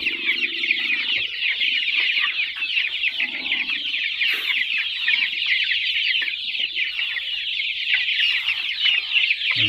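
A crowd of joper chickens in a flooded coop clucking and chattering nonstop, close by and fairly loud, with a steady busy texture throughout.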